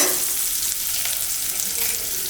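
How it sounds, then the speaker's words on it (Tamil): Shallots sauté in hot oil for a drumstick and field bean tamarind curry, giving a steady, close, even sizzle with no talking. "அதுக்கப்புறம் சின்ன வெங்காயம் போட்டுக்கலாம்."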